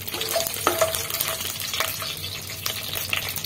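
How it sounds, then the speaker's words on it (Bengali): Garam masala frying in a pan for cauliflower curry, a steady close sizzle with stirring scrapes and light clinks throughout, no talking. "তাই দিয়ে দিচ্ছি গরম মশলা এটা 1 থেকে 2 মিনিট ভেজে নেব"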